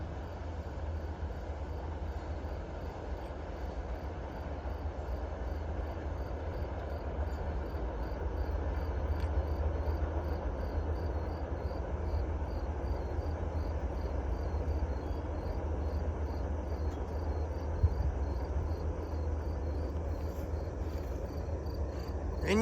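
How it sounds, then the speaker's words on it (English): Norfolk Southern manifest freight train of about 101 cars, symbol 315, rolling westbound past Barrows Road, a steady low rumble of wagons continuing throughout with insects chirping faintly in the background. "The symbol on that train is the Norfolk Southern 315."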